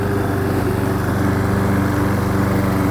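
A Briggs & Stratton lawn mower engine fitted with a muffler runs steadily while mulching grass, a loud, close, continuous buzzing drone with a fast regular pulse.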